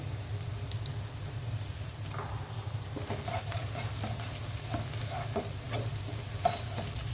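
An egg frying with pepper in hot oil, a soft steady sizzle with scattered small pops and crackles, fairly quiet and continuous.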